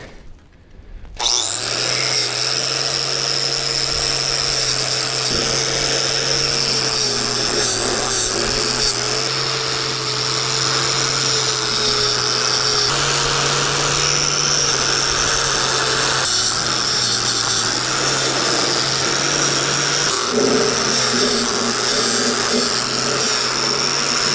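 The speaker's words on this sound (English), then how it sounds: "I gotta grind down these gasket surfaces with a brush" Grinder fitted with a wire brush scrubbing the gasket surfaces of an Isuzu 4BD1T engine block from a Hitachi EX120-2 excavator: a steady, loud, continuous high whine with rough abrasive scraping, running without pause after a brief start.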